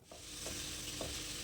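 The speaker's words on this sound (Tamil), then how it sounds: "சேர்த்துக்கிட்டதுக்கப்புறம் எல்லாமே கலக்கிற மாதிரி நல்லாவே மிக்ஸ் பண்ணி விட்டுக்கோங்க." Chopped onions and tomatoes for a chicken curry gravy are stirred in a hot pan under a steady, loud frying sizzle. A spoon scrapes through them in three soft, evenly spaced strokes, close by, with no talking.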